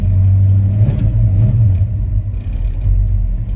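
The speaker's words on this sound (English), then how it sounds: "Now, I hit the throttle a little bit, enough for the high-speed idle cam to drop out of position completely." A 1973 Mach 1 V8 fed by a Holley 750 four-barrel carburetor is blipped briefly, its engine revving up in a close, loud rumble and then settling back toward idle, with no voices.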